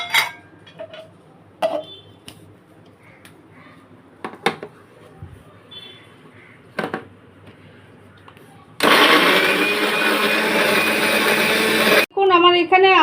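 A mixer grinder whirs loudly for about three seconds, grinding ginger, green chilli, garlic and cumin into paste, after scattered clinks of kitchen utensils and soft talk, then stops and briefly restarts.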